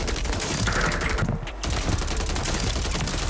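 Dense, continuous automatic gunfire from the Warzone video game, loud and close, rattling without pause for the whole stretch apart from a brief dip in the middle.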